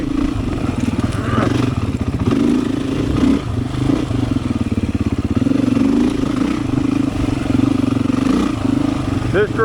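A Beta 500 dirt bike rides a wooded trail loop, its mid-pitched engine chugging and revving steadily up close with clattering over rough ground, while a rider talks over it throughout.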